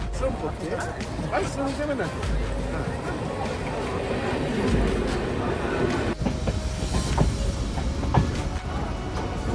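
Bangaon–Sealdah local train running, with continuous rail clatter and rhythmic clickety-clack, a few sharper knocks, and voices talking throughout in the carriage.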